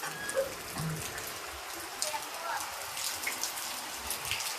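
Heavy rain patters steadily on a surface nearby while the sun shines, with scattered drips standing out, while faint voices murmur in the background.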